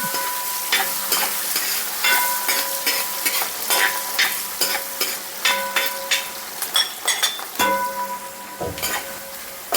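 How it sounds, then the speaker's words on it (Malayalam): About 150 grams of peeled garlic with green chillies sautéing in a pan for cauliflower pickle, a bright crackling sizzle broken by rhythmic scraping stirs, close and loud without talk. "എല്ലാം കൂടി ഇട്ട് നന്നായിട്ട് വഴറ്റി കൊടുക്കാം"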